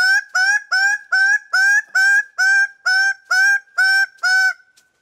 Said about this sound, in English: here one bird was determined to upstage him